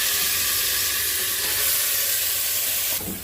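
Spices tipped into hot oil already holding bay leaf, white cardamom and cinnamon, giving a loud, close, continuous sizzle that drops sharply near the end, with no talking.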